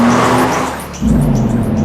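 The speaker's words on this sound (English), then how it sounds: "And a sports car." A sports car races past loudly and up close, engine note dipping then surging back as tires squeal through a short skid.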